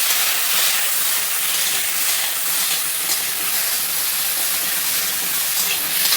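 Cut raw mango pieces dropped into hot oil with bay leaf, dried red chilli, panch phoron and black mustard seeds, sizzling in a steady loud hiss with fluttering crackle that carries on throughout.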